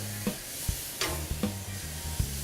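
Beef steak on an oiled grill just after flipping, giving a soft steady sizzle broken by a few dull knocks and clicks nearby.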